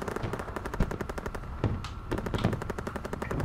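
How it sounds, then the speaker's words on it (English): Rapid bursts of gunfire in Call of Duty: WWII crackle steadily throughout, some shots sharper and closer than others, with no talking. "I hear gunshots. Gunshots, where are they going?"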